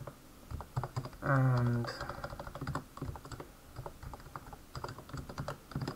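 Rapid, continuous clicking on a computer keyboard while a requirements file is edited, close-up and steady, with a person briefly speaking over the keystrokes.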